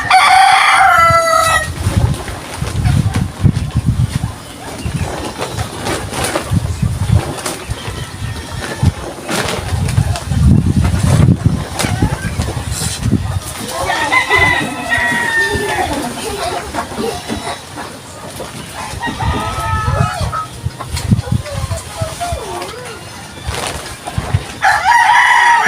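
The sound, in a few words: roosters crowing and clucking, fighting chickens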